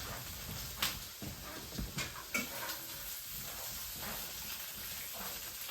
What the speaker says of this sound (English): I'm going to get my veggies in the skillet.